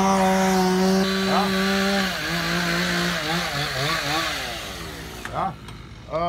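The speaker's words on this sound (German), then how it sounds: "Die müssen da die Bäume fällen und wegschleppen und die kleine Stickle sägen." A chainsaw is used for felling trees and cutting up small branches outdoors in Florida; its engine drones steadily and shifts pitch as it revs and bites, with someone talking over it.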